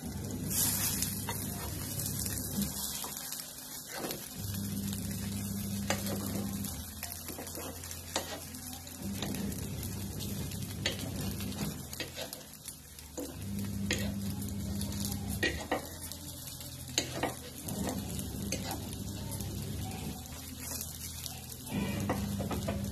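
Appe turned and fried in an appe pan, a steady low sizzle broken by repeated light metallic scrapes and taps as each dumpling is flipped, close up and continuous with no talking.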